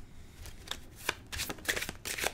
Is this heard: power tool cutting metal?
no